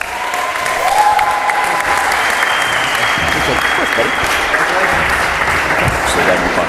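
Crowd applause for John Ellis at the 2014 Ektelon Pro Am racquetball singles final, a dense continuous clapping from a sizable audience in an indoor venue, steady and fairly loud, with faint voices mixed in.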